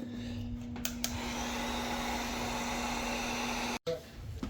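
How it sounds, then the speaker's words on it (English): A heat gun blows steadily on a car bumper of a 2015 Fiat Abarth, a continuous airy whoosh with a faint hum throughout, briefly cutting out near the end before resuming. "I'm going to be trying to get the heat gun and separate it"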